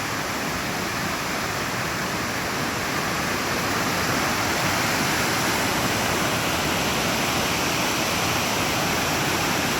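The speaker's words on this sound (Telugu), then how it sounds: "చాలా అద్భుతంగా ఉంది ఇలా వచ్చేసి వాటర్ ఇలా కిందకి కిందకి ఇలా వెళ్ళిపోతుంది" Water at the Kothapalli waterfall near Vizag cascades downward, producing an unbroken, full rushing roar close by that stays even throughout without any talking.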